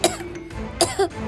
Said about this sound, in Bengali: দেখছো না কত কাশছে?